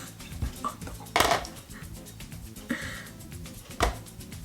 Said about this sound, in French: il faut fouetter ça avec 60 g de beurre mou